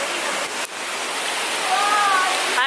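A waterfall on a hike in Sao Miguel in the Azores gives a loud, steady roar that fills the whole clip, and a brief high tonal sound rises above it near the end.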